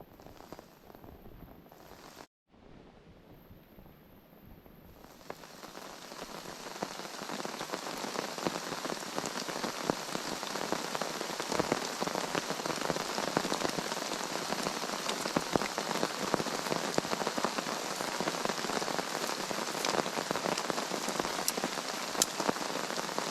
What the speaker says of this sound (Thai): ก่อนที่ ฝนเนี่ยจะตกหนัก